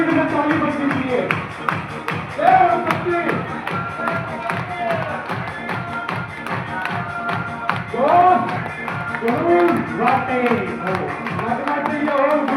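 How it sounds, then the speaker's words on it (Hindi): An audience at a journalist training and award ceremony claps in a steady rhythm, the dense regular taps running throughout under a voice speaking over the crowd. "जोरदार ताली बजाएंगे और रेगुलर स्पीड में ताली बजनी चाहिए।"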